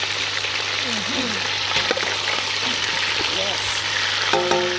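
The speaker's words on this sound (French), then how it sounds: "je pense que l'huile est chaude. Donc voilà, je vais poser mes viandes." Smoked pork knuckle meat fries in hot oil in a pot, a loud steady crackling sizzle heard up close, with faint clinks and a brief spoken word near the end.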